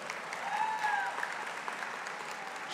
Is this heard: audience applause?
yes